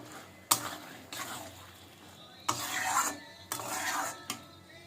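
Food being stirred in a pan on a Bengali home stove right after the lid is lifted, with several scraping, rasping strokes in bursts, close and fairly quiet, no talking.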